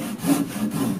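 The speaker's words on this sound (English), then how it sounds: "So the mortise that I'm putting in here is cut on a bias" A hand saw cuts a mortise on a bias into wood while restoring a classic plastic sailboat, giving a brief close-up run of rasping back-and-forth strokes with no talk.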